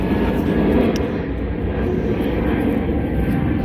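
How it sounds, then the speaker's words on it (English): Airplane flying overhead, a steady broad roar that holds at a constant moderate loudness from start to finish with no talk over it. "That's an airplane."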